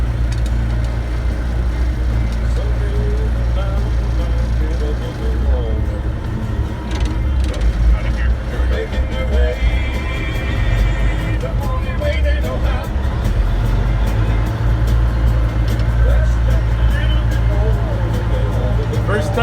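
A Peterbilt 359 truck rolls down the road with a steady, loud low engine rumble and road noise throughout, and faint voices come and go underneath.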